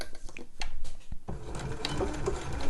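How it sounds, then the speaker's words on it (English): A sewing machine stitches fabric for a zip tote: short, start-stop bursts of rapid mechanical stitching up close, then a longer steady run of needle chatter. "So just sew down here. So I'll match the raw edge up with the 1 centimetre line."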